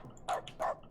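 A dog barks twice in The Stanley Parable, two short, fairly faint yelps about a third of a second apart, heard inside the game's office building with a soft background hum.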